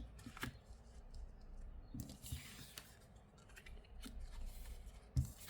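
Tarot cards are laid out one by one on a table during a Lenormand reading: soft, quiet slaps and sliding rustles at scattered moments, with a sharper card tap near the end, in a hushed room.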